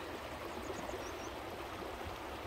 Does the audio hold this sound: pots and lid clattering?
no